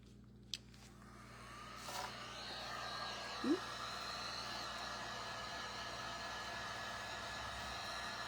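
A hair dryer blows steadily to dry fresh paint, a faint continuous whirring hum after a click as it starts, with a couple of small scrapes and handling noises; no talking.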